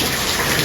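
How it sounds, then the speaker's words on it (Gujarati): Rain falls during an unseasonal summer storm, making a dense, steady hiss of drops that fills the whole short moment with no voices. "ભાઈ જો વરસાદ આવે છે."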